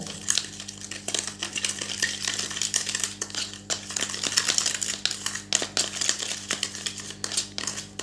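A spoon stirs sugar into shampoo in a small container, producing quiet, rapid, irregular clinks and gritty scraping that keep on without pause.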